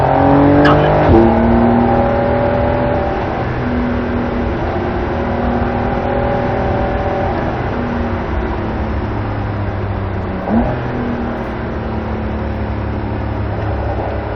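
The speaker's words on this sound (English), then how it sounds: "accelerate just for a second, and lift to set the nose, lift out of the throttle" A car accelerating around the Barber Motorsports race track: a loud, close engine note climbs in pitch and holds through the straight, with a brief throttle lift and a second surge near the end.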